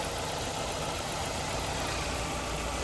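A 1995 Ford Contour engine idles steadily, close and loud, with a constant dense rumble and faint high whine throughout, no voices.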